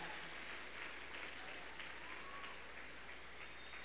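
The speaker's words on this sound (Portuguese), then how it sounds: "Vamos aplaudir o Senhor." Applause from a church congregation at a Mother's Day service, a steady, faint wash of clapping that stays even and sustained throughout, with no speech over it.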